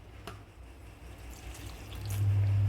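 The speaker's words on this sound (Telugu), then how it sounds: "ఇప్పుడు కొద్దిగా వాటర్ అయితే యాడ్ చేసుకున్నాము." Water is poured into a mixer jar holding peanuts and green chillies for chutney, starting as a faint trickle and swelling into a steadier pour near the end.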